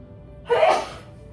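A single short human sneeze, sharp and fairly close, bursts out over a quiet background and trails off within half a second.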